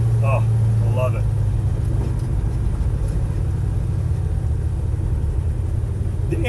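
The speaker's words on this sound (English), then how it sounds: "you do have that unique sound of a big block Chevy" Big block Chevy V8 in a 1966 Chevrolet C10 rumbles steadily and loud throughout, a deep continuous idle with a brief voice over it near the start.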